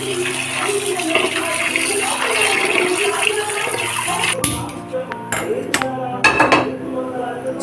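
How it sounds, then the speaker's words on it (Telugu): Mutton brain being washed under running water: a steady splashing stream from a tap, then clinks and knocks of a bowl or pan as the water cuts off, heard up close. "మెదుడు ఇట్లా కడిగి పెట్టుకోవాలి పక్కకు."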